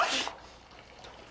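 One sharp, close human sneeze bursts out at the start, followed by a quiet room and a brief soft rustle at the end.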